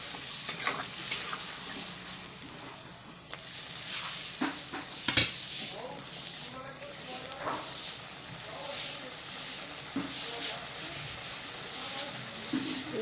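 Spice masala for a drumstick, potato and rohu fish mustard curry fries and is stirred in a pan, giving a constant hissing sizzle with occasional sharp scrapes and clinks of the spatula, close and steady, without speech.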